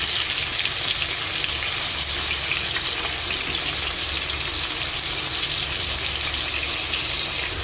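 Salt-and-turmeric-coated prawns frying in hot oil in a pan produce a loud, continuous hiss and crackle that holds steady throughout, with no talking.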